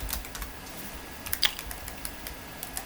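Light, quick keystrokes on a computer keyboard while entering an Excel formula, an irregular run of soft clicks close to the microphone in a quiet room.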